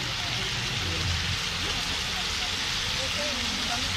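Strong outdoor wood fire roaring under a pot of spicy native chicken adobo simmering with vinegar and soy sauce in a backyard, a steady dense crackling hiss filling the scene, with people talking quietly underneath.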